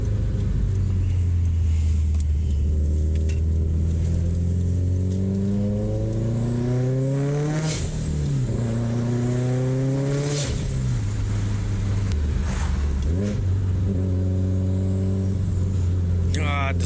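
A 600 whp big-turbo Subaru STI running E80 ethanol climbs through the revs again and again, its turbo whistling up as it spools. Engine pitch rises and drops at each shift, close and continuous.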